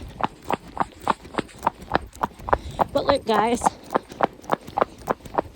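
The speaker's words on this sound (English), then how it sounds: "you can probably hear by the trot that it's not a lazy trot" Hooves clip-clop on a hard road in a brisk, even trot, close by, while a person speaks briefly over the rhythm.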